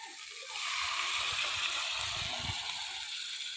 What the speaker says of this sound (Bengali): এই সবজি ভাজা জল দিয়ে দিলাম